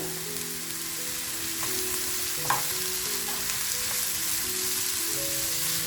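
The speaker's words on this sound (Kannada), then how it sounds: "ಈ ಟೈಮಲ್ಲಿ ನಾವು ಹಸಿಮೆಣಸಿನ್ಕಾಯಿ, ಬೆಳ್ಳುಳ್ಳಿ, ಶುಂಠಿನ ಜಜ್ಕೊಂಡ್ಬಂದ್ವಲ್ಲ ಅದನ್ನು ಸೇರಿಸ್ಕೊಳ್ತಾ ಇದ್ದೀನಿ" Onion, green chili, garlic and ginger frying in a pan, a continuous sizzle with stirring scrapes and a sharp clack midway, steady and close with no talk.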